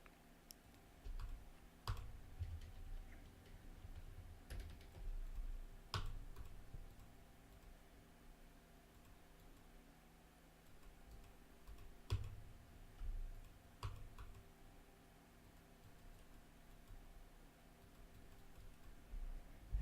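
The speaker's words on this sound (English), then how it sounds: "just push the down arrow key on my keyboard" Sparse, quiet clicks from a computer keyboard's arrow keys, tapped at irregular intervals with pauses of a second or more over a faint background hum.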